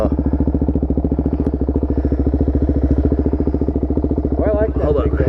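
A motorcycle engine with no battery runs at a steady idle: a loud, close, even rapid putter throughout, with a voice briefly rising over it near the end.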